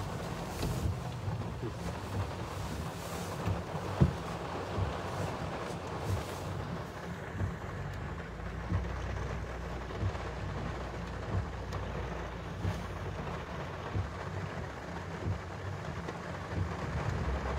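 Steady rain falls at night in Funchal, Madeira, a dense, continuous hiss and patter with a low rumble underneath, holding at an even level throughout with no voices.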